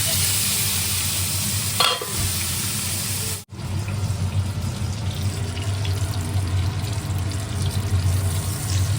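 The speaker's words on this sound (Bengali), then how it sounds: "চিংড়ি মাছগুলো মোটামুটি আমার ভাজা হয়ে গেছে, সবগুলোই ভেজে নিলাম" Prawns fry in hot oil in a pan, a steady loud sizzle with stirring scrapes and a brief pause before the crackling resumes, heard close up.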